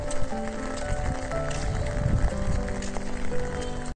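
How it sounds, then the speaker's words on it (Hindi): Rain falls steadily on a car while it moves slowly with the wipers running. A dense patter of drops mixes with a low vehicle rumble and faint tonal hum throughout. "बारिश लगातार हो रही है"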